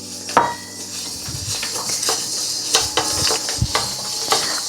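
Turmeric and peppercorns dry-roast in a pan, heard as clinks and scrapes of a spoon against the metal with a faint sizzle underneath, close and unhurried, with no talk.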